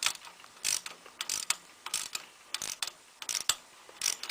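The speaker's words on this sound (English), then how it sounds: "So this is going to tighten it up and draw that bolt into place." Bicycle handlebar bolt on a 12-speed bike being tightened with a washer fitted: a series of close, quick metallic ratcheting clicks in short bursts, heard alone.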